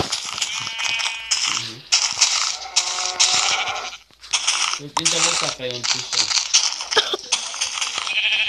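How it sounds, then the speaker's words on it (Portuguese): Sheep bleating in a video game as they are killed, repeated wavering bleats mixed with game sound effects under steady conversation between players. "Tá matando ovelha?"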